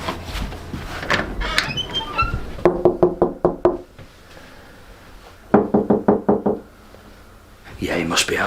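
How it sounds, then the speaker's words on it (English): Knuckles rap on a door in two quick series of about five knocks each, close and loud, separated by a quiet pause, with rustling before and after. "I might see if I can give Trevor a knock before I go"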